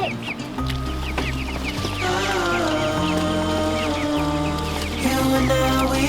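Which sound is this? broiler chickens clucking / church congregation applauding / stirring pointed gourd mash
broiler chickens clucking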